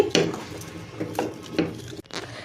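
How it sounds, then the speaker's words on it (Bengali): Chilies rubbed by hand into mashed pumpkin bori for a bhorta, giving about four close, soft squishing and scraping strokes in a steady rhythm, with faint clinks from a dish. "এই যে মরিচগুলো একটু ডলে নিচ্ছি"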